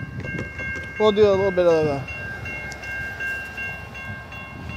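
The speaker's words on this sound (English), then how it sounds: "That's a Norfolk Southeren train." A Norfolk Southern freight train rolls through Effingham, Illinois with steady rumble, while a horn-like tonal blast sounds for about a second and someone talks over it.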